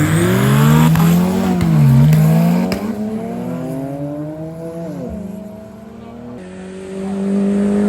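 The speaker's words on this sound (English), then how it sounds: "D15 turbocharged going up on a BMW." A turbocharged Honda D15 car races a BMW, its engine revving loud and close in rising and falling pulls, with shifts between gears, a brief tire screech and the whine of the turbo carrying across the run.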